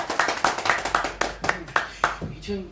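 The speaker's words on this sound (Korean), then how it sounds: "자 박수 드리겠습니다." An audience at a Saturday lecture on drone news claps in a quick, even rhythm of distinct sharp hand claps, close by and fairly loud, before a voice and quieter sounds take over at the end.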